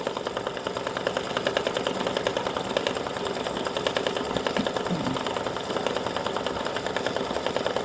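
An embroidery machine stitches onto card stock, giving a loud, steady rapid mechanical chatter of needle strokes with a constant motor hum throughout.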